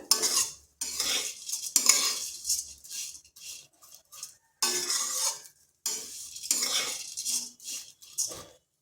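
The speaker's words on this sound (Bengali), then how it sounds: "এইভাবে বেশ কিছুক্ষণ সময় ধরে সিমাইটাকে ভেজে নিতে হবে" Semai vermicelli is fried and stirred over low heat, and a utensil scrapes and clinks against the pan in repeated bursts with short quiet gaps. A soft sizzle sits beneath the stirring.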